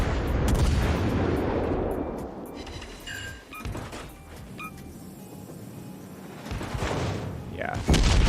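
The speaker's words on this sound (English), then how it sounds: "Got our secondaries firing." Warship secondary guns firing in World of Warships Legends, heavy booming shots and thuds through a loud battle soundscape, several reports spread across the clip with a voice talking.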